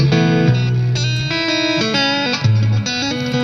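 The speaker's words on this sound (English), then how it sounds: "He has the massive reverb." Sustained guitar notes ring out with heavy, washing reverb, each chord blooming and smearing into a long, lush tail.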